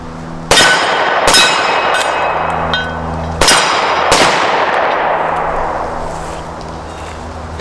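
An HK P9S pistol fires four sharp, loud gunshots in two uneven pairs, each crack ringing out with a long metallic echo that fades slowly.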